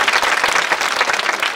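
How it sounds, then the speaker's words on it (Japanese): Sustained applause from the audience at the 2017 World All-Star Jockeys award ceremony, dense, steady clapping filling the whole moment without a break. "今一度大きな拍手をお願いいたします。"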